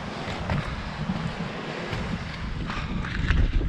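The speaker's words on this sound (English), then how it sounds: "It's a windy one." Wind gusting near the summit of Slieve Donard mountain, a rough continuous buffeting roar on the microphone that swells louder toward the end.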